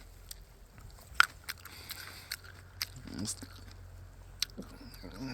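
Greenbrier (Smilax) berries bitten and chewed, a few sharp crunchy bites and soft wet chewing sounds, close and quiet, with a person speaking briefly between them.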